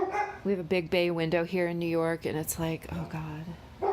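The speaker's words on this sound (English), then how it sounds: "Sorry about my dogs." Pet dogs barking and yipping indoors near a big bay window in New York, sharp repeated barks mixed in with someone talking over them.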